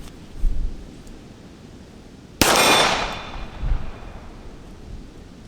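A single sharp, loud report from a Colt Cobra revolver cracks out and rings off into a decaying echo, with handling noise before it and a softer thump after.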